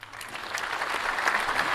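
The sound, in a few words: applause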